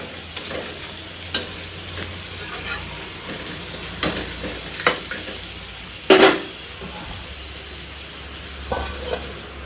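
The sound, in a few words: Bombay duck fish stirred and frying in spice masala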